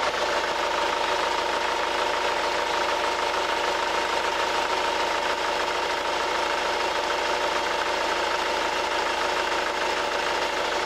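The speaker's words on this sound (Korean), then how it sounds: "나가서 엔진 소리로 마무리 짓도록 하겠습니다" Hyundai Grandeur HG car engine idling outdoors, a steady continuous mid-frequency hum with faint mechanical ticking, heard close and alone throughout with no talk.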